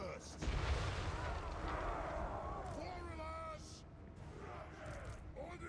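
A Flame Cannon in the Total War Warhammer III video game fires on Chaos Warriors, a heavy booming blast with roaring rumble amid battle clamour, while a voice talks over the noise.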